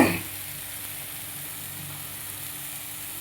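Mashed ridge gourd thecha fries in a pan, a soft, even sizzle that holds steady after a brief louder burst at the start, with no voices.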